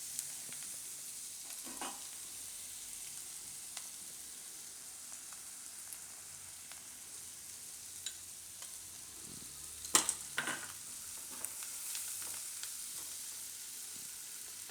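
Wheat ghughri cooks gently over a low gas flame, giving a faint, steady hiss with occasional soft clicks and one louder clatter near the middle.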